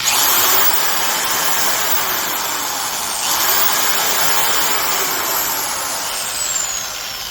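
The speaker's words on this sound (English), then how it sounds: "It's a non-reversible drill." A continuous high-pitched whine of a Freud Spain 3/8-inch corded, non-reversible carpenter's drill with a composite body running steadily, the motor pitch shifting slightly up and down.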